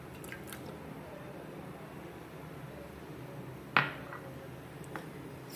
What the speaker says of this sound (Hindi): अब इसमें टमाटर डाल लीजिए